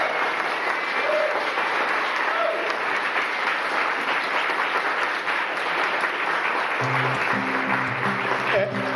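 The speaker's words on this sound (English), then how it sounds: "So let's have a round of applause for Mike and Kate." Wedding guests give the couple a full round of applause, dense steady clapping throughout with some murmuring voices, and a low hum enters near the end.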